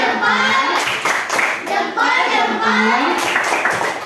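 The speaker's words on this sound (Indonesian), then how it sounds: "Oke, tepuk salut." Children in a classroom perform the tepuk salut clapping routine, bursts of group hand claps in a patterned rhythm mixed with young voices chanting along throughout.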